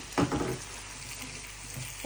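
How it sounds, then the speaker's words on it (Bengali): Spice paste of onion, garlic, cumin, coriander and green chili with chopped onions and cashew paste sautés in a pan for prawn malai curry, a brief stirring scrape over a soft continuous sizzle, close by. "এখন ভালোভাবে কষিয়ে নেই মশলাটা"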